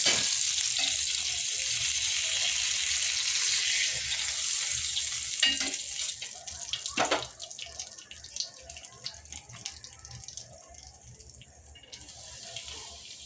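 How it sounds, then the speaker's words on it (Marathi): Stuffed pomfret frying crisp in a pan, a steady hiss of sizzling oil carrying throughout, with a few sharper crackles and pops midway before the sizzle settles quieter. "अशाच पद्धतीने आपण दुसरा सुद्धा फ्राय करून घेऊया."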